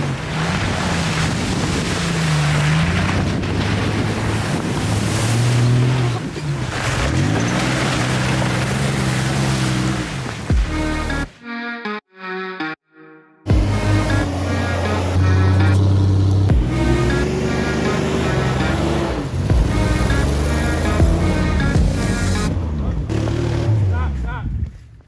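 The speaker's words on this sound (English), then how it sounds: "All right, Mike and Tyler, they're riding their trucks through here." Trucks churn through a massive mud pit off-road in Virginia, engines roaring loud and steady nearly throughout, with wind buffeting the microphone and a brief drop-out midway.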